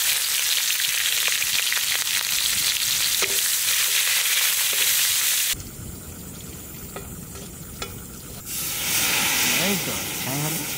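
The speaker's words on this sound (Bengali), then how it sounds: "এখন আমি মুসুরির ডালে ফোড়ন দেবো সর্ষের তেল।" Whole cumin seeds and dried red chilli crackling in hot mustard oil, a tempering for red lentil dal cooked outdoors at night over a wood fire; a loud, steady sizzle and hiss that drops abruptly midway, then rises again, with faint crackles.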